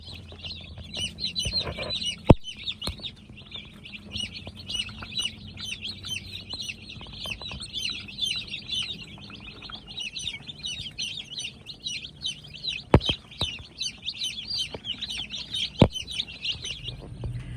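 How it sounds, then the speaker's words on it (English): Broiler meat chicks settled in a brooder keep up a dense, continuous chorus of high peeping chirps, with a few sharp knocks and clicks scattered through. "now that the meat chickens are all settled into their brooder"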